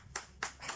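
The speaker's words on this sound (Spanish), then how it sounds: "Un aplauso para el Señor Jesucristo." A few sharp hand claps in quick succession ring out at a church sermon, brief and moderately loud against a quiet room.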